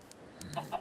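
Faint clucks from Minecraft chickens, a few soft short calls spaced out over a quiet background.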